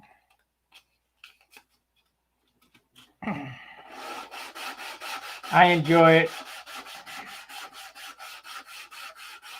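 Brisk, evenly paced sanding strokes scrape across a P-47 model airplane being prepared for a dope finish, starting after a spoken remark and continuing alone with a steady rhythmic rasp.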